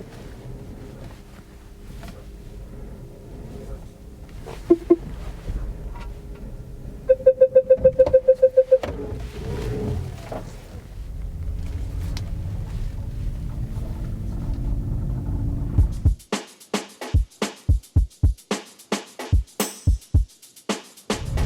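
A Renault ZOE electric car drives on the road with a steady low rumble of road and wind noise inside. The rumble builds and then gives way to a run of sharp, evenly spaced ticks toward the end.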